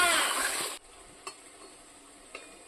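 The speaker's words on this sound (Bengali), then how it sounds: "আলুগুলো মশলায় ভালো করে কষিয়ে নেব।" Potatoes tossed into spice masala in a pan, a bright hissing sizzle for the first moment, then a quieter simmer with two faint scrapes of a spoon stirring.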